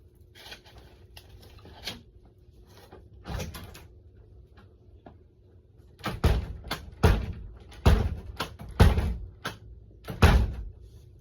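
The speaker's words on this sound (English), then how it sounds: "It's like impossible to close the door in one fell swoop, so I was trying to avoid that." A door is pushed shut in several attempts, a few muffled thumps early on and then a cluster of louder knocking bangs and rattles close by, with quiet gaps between them.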